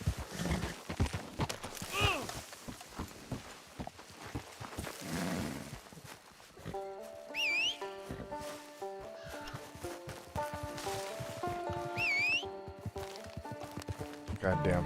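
Horse hooves clip-clop in quick, uneven runs in Red Dead Redemption 2, joined partway through by soft melodic game music.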